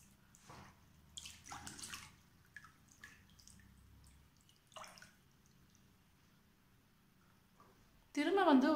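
Water sloshes and drips in scattered bursts as feet shift in a basin during a pedicure foot soak, ending with a louder splash.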